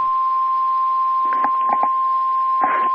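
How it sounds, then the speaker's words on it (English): NOAA Weather Radio All Hazards warning alarm test, a loud steady single-pitch tone held throughout with a few brief clicks and chirps breaking through, no voices. "This is a test of the National Weather Service NOAA Weather Radio, All Hazards Warning Alarm System"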